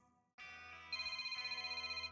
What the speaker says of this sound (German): Oh, mein Telefon.